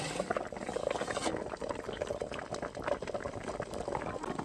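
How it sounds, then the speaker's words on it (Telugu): Water boils hard beneath covered containers of colostrum milk pudding (junnu) cooking in steam, a steady close bubbling and popping that keeps going without pause throughout. "ఓన్లీ ఆవిరితోనే ఉడుకుతుందండి. చూడండి ఎలా ఉడుకుతుందో."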